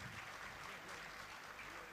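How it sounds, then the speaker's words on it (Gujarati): Faint applause from a folk-literature dayro gathering in Rajkot, a soft, even wash of clapping heard at low level throughout. "એકવાર જોરદાર તાળીઓ થઈ જાય રવિભાઈ માટે"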